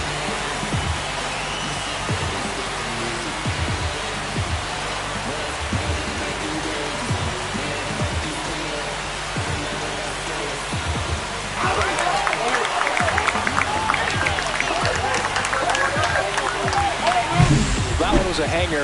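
A home crowd roars and cheers after a game-tying home run in the baseball video game MLB The Show 25, the swelling noise rising sharply midway under steady commentator talk.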